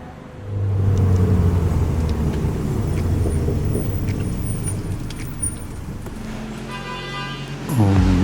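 An Alpine car runs on a small indoor test track at the factory, its engine rumbling steadily close by, with a short burst of horn-like tones near the end.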